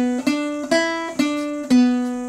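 A guitar picks out the Camptown Races melody in four clear plucked notes, evenly spaced and close, each ringing and decaying before the next.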